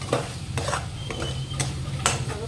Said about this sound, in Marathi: तर आपण त्याला पाच सहा मिनिट छान मिक्स करून घेऊया हलवून घेऊया